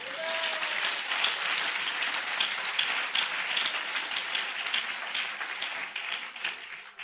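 A congregation at a French-language church service applauds and cheers for Jesus, with dense, steady clapping and crowd noise that fills the space throughout and eases slightly near the end.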